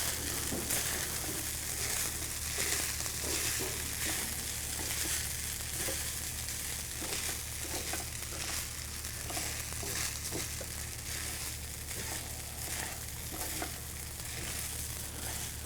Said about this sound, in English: now we'll add in our fried garlic